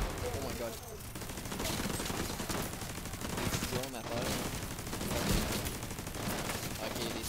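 Gunfire in The Division 2 video game: sustained loud volleys of automatic shots layered with game effects, with a player's voice talking over them.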